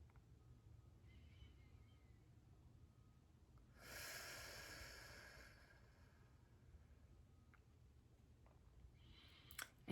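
A slow, deep breath during a guided meditation, a soft airy inhale swelling up then fading into a long quiet exhale, close and calm over near silence.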